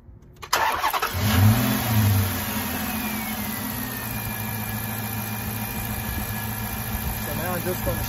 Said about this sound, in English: but gotta start the car up first.